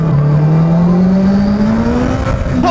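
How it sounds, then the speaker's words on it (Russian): Honda CBR Fireblade 1000RR sport motorcycle exhaust, loud and close, with the engine note climbing steadily as it revs up and pulls away on a busy road. "Выхлоп он такой не тихий, я вам скажу, но приятный."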